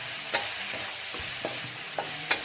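Minced pork being dry-fried with sliced fresh red chillies in a pan, a steady sizzling hiss broken by a few sharp spatula scrapes at a close, moderate level, no voices.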